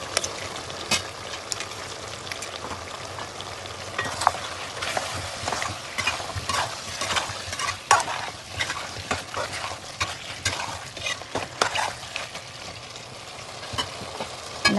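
Chicken curry being stirred in a pan after onion paste is added to the soupy chicken juices, giving a steady scraping and soft sizzling that runs throughout at close range with no talk.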